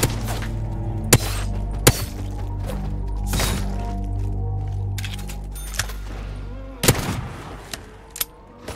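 Olympia shotgun in Call of Duty Zombies, a handful of sharp, isolated blasts spaced a second or more apart over a steady low engine-like drone, with faint voices and scattered clatter.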